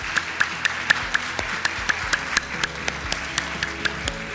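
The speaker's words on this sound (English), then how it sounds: "please do join me in a round of applause for Dr. Wolfe" Sparse applause at a health policy conference lunch keynote, a small group's scattered, individual claps ticking at a steady pace, fairly quiet and close, with a faint background hum.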